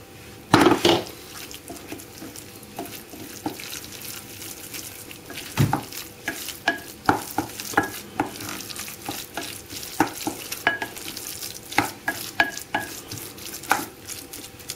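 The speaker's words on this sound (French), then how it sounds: "il ne reste plus qu'à mettre la pâte de courgettes avec la viande" Courgette paste and meat are stirred together in a frying pan, a low sizzle broken by repeated sharp clinks and scrapes of the utensil against the pan.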